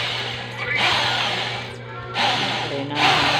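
A power drill runs in steady bursts during battery assembly, its whirring motor rising and settling in two or three pulses over a constant low hum, fairly close and loud with no talk.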